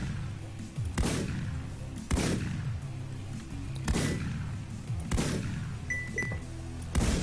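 A shotgun in the underwater shooter game Paranautical Activity fires six or so heavy, booming blasts at roughly one-second intervals, each with a decaying rumble, with no speech.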